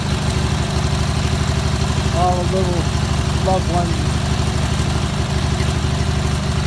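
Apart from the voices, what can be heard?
train engine idling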